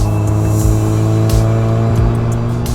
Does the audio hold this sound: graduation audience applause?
no